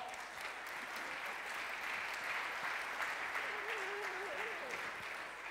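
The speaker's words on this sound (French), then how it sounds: "On l'applaudit bien fort." A hall audience at the E-Commerce Awards 2014 prize ceremony gives a steady round of applause for a winner, a dense, even clapping that carries on throughout with a faint voice briefly underneath.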